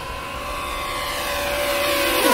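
A DJI Mavic Mini drone flying fast in sport mode outdoors, a steady high-pitched buzzing whine from its propellers that holds constant and grows slightly louder as it approaches, with no talking.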